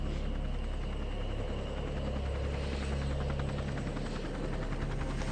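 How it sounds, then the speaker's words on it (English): A Huey helicopter drones steadily in the distance, a low continuous rotor hum with faint rhythmic chopping, heard alone at moderate level. "Sounds like a Huey."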